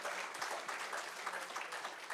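Audience applause at a summit closing ceremony in Africa, even, continuous clapping from a crowd heard alone at a moderate, slightly distant level for a couple of seconds.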